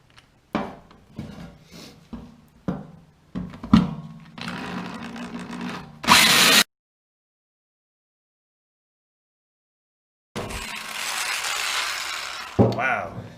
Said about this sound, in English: this might be one of the last holes I drill with this thing